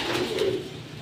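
A pigeon coos inside a 24-by-18 cage, a short, close, soft throaty call rising and falling once.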